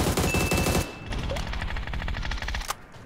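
Rapid automatic gunfire rattles in bursts during an online shooter game, loud and close with dense repeated shots, breaking off briefly before more bursts and a sharp single crack near the end.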